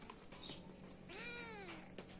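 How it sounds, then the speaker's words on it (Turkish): A cat meows once, a drawn-out rising-and-falling cry heard fairly clearly over faint background noise in an outdoor highland setting with light drizzle. "Kedi hanım da yerlerde duramıyor."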